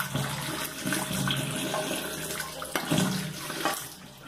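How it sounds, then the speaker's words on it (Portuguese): About a liter of hot water is poured down a drain after vinegar has been added, a steady rushing, splashing pour that keeps going near and loud with small surges, no voices over it. "Coloca mais ou menos 1 litro de água quente."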